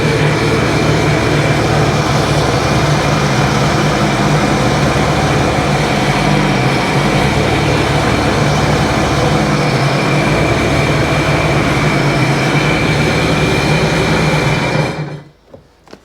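A Sea-Doo Wake 215 personal watercraft engine runs in a loud, steady, unbroken roar that fills nearly the entire stretch before cutting off abruptly near the end.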